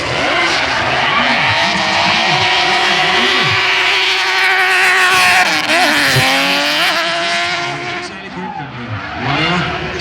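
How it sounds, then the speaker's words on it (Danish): Nissan Skyline fitted with a Dodge Viper V10 engine drifting at a motorsport drift event, a loud continuous roar with rising and falling engine pitch, tire squeal and skidding throughout, crowd and commentary noise beneath. "Men Skyline derovre, det er en super med en Dodge Viper V10-motor."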